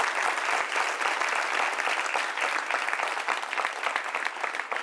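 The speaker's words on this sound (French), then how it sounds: "Applaudissements pour vous-même." A television studio audience applauds, a dense, even wash of many hands clapping at once that holds steady and loud for the whole stretch.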